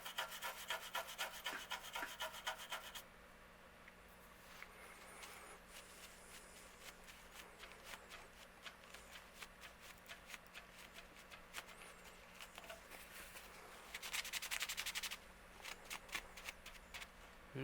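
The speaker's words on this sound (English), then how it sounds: "we'll go ahead and scrub it around real quick with a little bit of rubbing alcohol here" Rubbing alcohol scrubbed across a circuit board to clear solder flux after fitting a CR2032 coin cell battery holder: close, dry, rhythmic brushing strokes with a short louder burst of scrubbing near the end.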